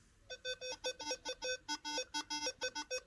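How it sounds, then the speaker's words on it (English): Rapid electronic beeping tones from a Nokta Accupoint metal detector coil heard through headphones, in quick, uneven bursts, fairly faint, with no other sound. "That's the sound of the coil coming through the headphones."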